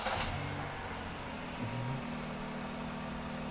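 Volkswagen engine running at a steady idle, a low, faint rumble with a slight rise partway through, said to sound like a diesel, alone with no talking.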